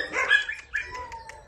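A dog awaiting adoption in Romania gives two sharp, close barks followed by a few soft whimpering yips, with no talk over it.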